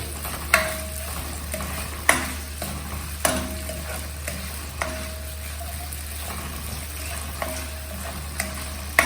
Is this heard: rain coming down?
no